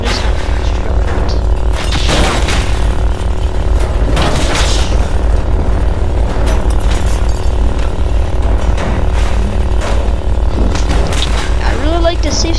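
Loud, dense destruction in the video game Teardown as a structure is smashed apart with the Sif Saber mod, with continuous crashing, crumbling and booming impacts over a rumbling bed.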